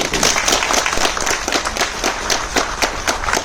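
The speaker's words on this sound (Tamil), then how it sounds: "அவருக்கு ஒரு மிக பெரிய கைத்தட்டல்" An audience applauds, a dense burst of many hands clapping continuously at moderate loudness without speech.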